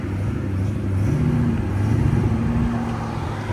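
A Cadillac CTS-V with a 6.2L V8 and straight-pipe exhaust pulls away with a deep, rumbling burble that swells as it accelerates and then eases off over a few seconds.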